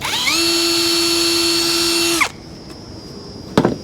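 A power drill bores pilot holes through the plastic edge of a reversing camera bracket on a Toyota Prado 150, giving one steady, loud high whine for about two seconds that cuts off abruptly, followed by a single brief knock.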